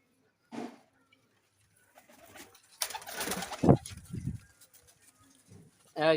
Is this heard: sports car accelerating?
no